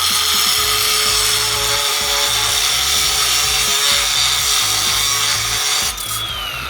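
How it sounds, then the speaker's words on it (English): A Flex variable speed cordless grinder with a stacked lithium battery cuts through rebar, giving a loud, steady high-pitched whine and gritty scraping that holds nearly seven seconds before the pitch dips as the cut finishes. "And we're going to cut this rebar here"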